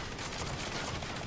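Rapid gunfire from a shotgun or rifle in Saints Row, dense and continuous bursts with no pauses, loud and close throughout.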